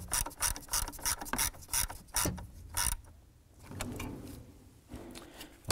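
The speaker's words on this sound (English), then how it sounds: "Go ahead and snug this bolt down here." Ratchet clicks in quick repeated bursts as a bolt is snugged down on the steering column of a 1993-1997 Ford Ranger, close and fairly loud, followed by a few softer handling noises.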